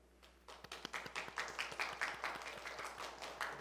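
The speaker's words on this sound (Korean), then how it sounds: "다 같이 박수로 환영하겠습니다" A church congregation claps to welcome newcomers at a Wednesday worship service: steady, rhythmic group clapping that builds within the first half-second and carries on evenly, moderately loud, through to the end.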